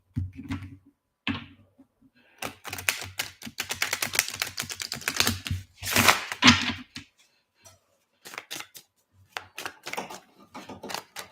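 Oracle cards being shuffled by hand in a fast, dry patter of papery riffles and clicks, coming in close bursts with short pauses between them and no voices.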